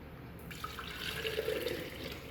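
Homemade pecan milk pours from a container without a funnel, a soft, steady trickle of liquid running for a couple of seconds, close by and fairly quiet, with no talking.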